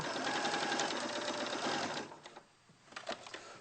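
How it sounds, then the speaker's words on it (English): Sewing machine rattling rapidly up close as it stitches a short seam joining a toy's head to its body, running steadily for two seconds, then stopping with a few soft handling clicks and rustles. "I like to machine sew the head to the body because I just think it's that bit more secure"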